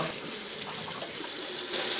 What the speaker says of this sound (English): we're just gonna get a little bit of water going with it